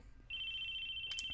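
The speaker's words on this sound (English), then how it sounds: "cursing them with an obnoxious ringing until they picked up" A telephone rings in the visual novel game Chaos;Head NoAH, a single sustained electronic ringing tone that starts abruptly and holds steadily, fairly loud over a quiet background.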